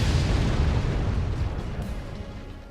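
Booming blasts in the video game Forts as an AP sniper round punches through an energy shield into a wind turbine, a loud rumbling explosion decaying over a few seconds.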